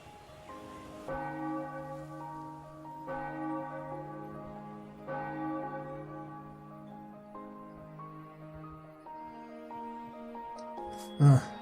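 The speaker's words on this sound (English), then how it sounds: "I hate that stupid bell." A church bell in the Ara Fell video game tolls in slow, spaced strikes, each ringing out with a long, layered hum that overlaps the next, ending with a brief sharp noise.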